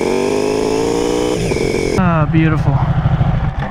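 A 2019 Honda CBR1000RR motorcycle engine revs loudly while riding, a sustained high whine that drops, then rises in rapid pulsing bursts; a voice briefly speaks over it.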